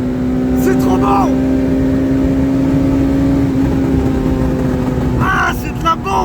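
A Peugeot 205 GTI engine holds a loud, steady high-rev drone throughout, with excited voices shouting over it near the start and again toward the end.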